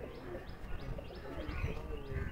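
Domestic pigeons, male and female birds kept at a home, coo in repeated soft rolling phrases close by, mixed with a few light chirps.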